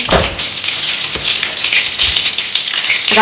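Mustard seeds burst in hot oil in dense crackling and rapid popping, a continuous spattering hiss with sharp pops scattered throughout.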